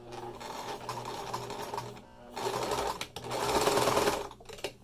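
Sewing machine backstitching a seam on a fabric face mask, running in short close bursts of rapid mechanical stitching with brief stops between them.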